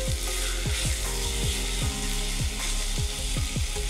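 Chicken pieces fry in a pan with chukka kura greens as a spoon stirs them, a steady sizzle under a rhythmic series of repeated scraping strokes, about a dozen in four seconds, close and moderately loud with no voices.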